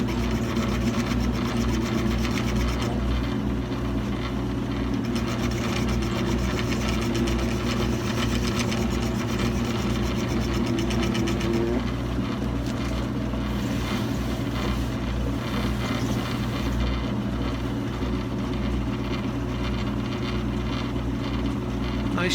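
Motorized shoe-edge finishing wheel spins steadily while a Tony Lama boot is restored, a loud continuous hum with constant low drone, running unbroken throughout.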